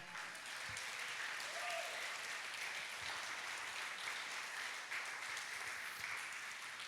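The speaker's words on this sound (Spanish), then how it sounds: "¿Cuánto le dan un aplauso al Señor?" A church congregation applauding together, dense steady clapping from a crowd that continues evenly for several seconds, fairly distant and reverberant.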